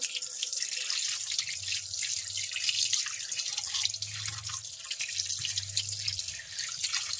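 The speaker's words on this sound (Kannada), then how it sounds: "ಫಸ್ಟು ಕೈನ ಚೆನ್ನಾಗಿ ವಾಶ್ ಮಾಡ್ಕೋಬೇಕು" Hands are washed under a running household tap, a steady close stream of water with a faint low hum that rises and falls beneath it, and nobody talks.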